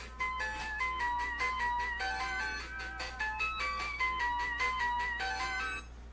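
The Sonic Green Hill Zone theme chimes out as a phone ringtone, a bright, bouncy electronic melody looping steadily and fairly loud throughout, with no talking over it.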